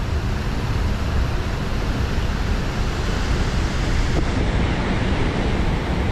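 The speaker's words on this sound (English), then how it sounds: "I didn't expect this much water rushing down here." A river in outback Australia near the Murrumbidgee runs high, its rushing water heard as a steady, dense roar, loud and close throughout, with some wind noise mixed in and no voices.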